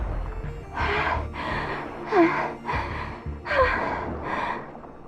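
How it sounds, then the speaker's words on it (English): A character in the Tower of Fantasy video game pants heavily, a run of about six loud, rhythmic breaths over a low background hum. "Panting so heavily?"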